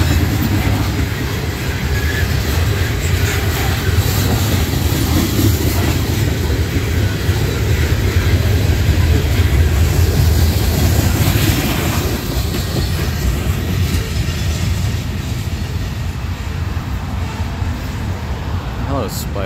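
Norfolk Southern freight train NS 564 rolls steadily past at close range in Creighton, Pennsylvania, its wheels and cars making a continuous loud rumble and clatter for the full length, with faint voices underneath.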